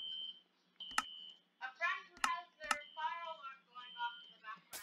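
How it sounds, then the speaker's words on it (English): A home smoke alarm, set off by food burned in a microwave, sounds sharp, short electronic beeps in the background, roughly four chirps spaced about a second apart, while someone talks over them. "friend who has their fire alarm going off in the background"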